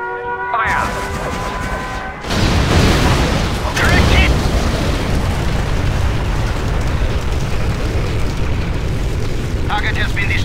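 A bombing explosion from the China cinematic trailer for Command and Conquer Generals: a sudden massive roaring blast that keeps rumbling loudly for several seconds, with voices speaking over it.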